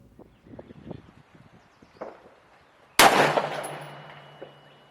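A single loud AR-15 rifle shot fired at a target while zeroing a red dot sight, a sharp crack followed by a decaying echo, preceded by faint rustling and footsteps outdoors.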